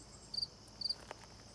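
A cricket chirps in a quiet kitchen with two short, faint bursts of shrill trilling spaced about half a second apart over a low background hum.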